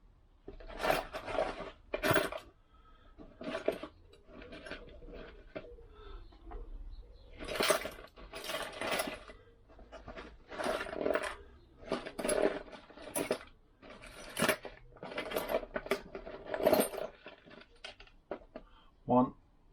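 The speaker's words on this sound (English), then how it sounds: "what I'm looking now for is my nuts and washers, which should be in here." Metal nuts and washers for a Lambretta scooter clink and rattle as a hand rummages through them, in short, faint bursts separated by quiet gaps.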